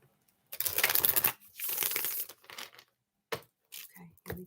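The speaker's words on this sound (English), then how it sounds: "One more shuffle." Tarot cards shuffled in bursts of crisp riffling and rustling, three or four short close bursts separated by pauses.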